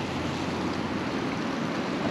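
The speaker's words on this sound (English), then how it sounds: "just a wind gust comes through and knocks things over" A strong gust of wind batters the outside of an RV, a loud, dense roar of rushing air that fills the whole stretch without a break.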